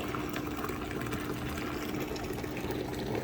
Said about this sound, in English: we're gonna have to get some more water in here in a moment, and we're gonna hit the rinse cycle